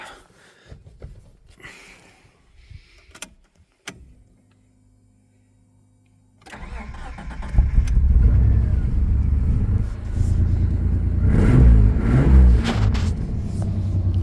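A Mk1 Mitsubishi Shogun V6 with a manual gearbox cranks and starts, then settles into a loud, rumbling idle with a raspy, puffing exhaust note from an exhaust leak, close by; a few knocks and clicks precede it.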